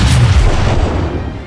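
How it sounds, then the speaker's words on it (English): A naval gun shot recorded on a gunnery range, used for World of Warships: a single heavy, deep boom with a long rumbling decay that fills the short clip, close and loud. "say a shot that was recorded somewhere on the gunnery range"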